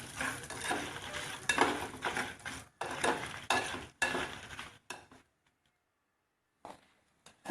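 Roasted red chillies, coriander seeds and salt being stirred in a pan, with a dry scraping and rattling that comes in quick bursts, then a pause and a few faint stirs near the end.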